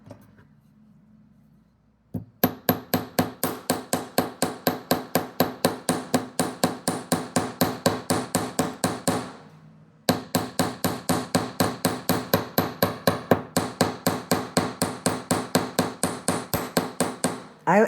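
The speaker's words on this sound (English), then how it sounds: "so let's go ahead and hammer this one." Rapid, evenly spaced hammer taps flatten and flare the metal wire of a handmade earring. Dozens of sharp, close metallic strikes come in two long runs split by a brief pause, after a quiet lead-in.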